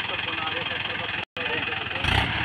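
A Mahindra 575 DI XP tractor engine runs under heavy load hauling a trailer full of wood, a loud, close, steady diesel chugging with a brief dropout and a rise in revving near the end.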